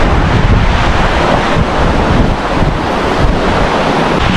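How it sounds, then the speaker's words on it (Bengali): Ocean waves break on the beach at Abu Abali, Oman, a loud, continuous rushing surf mixed with heavy wind buffeting the microphone. "মানে ঢেউর যে শব্দ, পানির যে আওয়াজটা শুনতে অনেক সুন্দর লাগে আমার কাছে"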